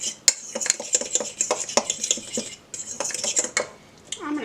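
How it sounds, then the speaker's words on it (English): A utensil mixes dry seasoning for chicken wings in a bowl, giving quick rhythmic clinks and scrapes against the dish, a pause, then another burst of clattering stirs. "And mix it up."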